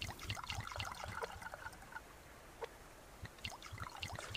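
Water collected at a lake in the survival video game Subsistence, with soft splashing and trickling in irregular bursts, fairly quiet and with no one talking.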